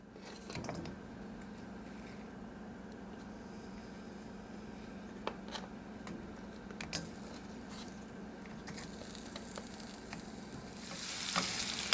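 Two apples cut into quarter-inch slices fry in a pan for pork chops with maple bourbon glaze, giving a steady low sizzle with a few soft stirring clicks and a brighter hiss near the end, no talking.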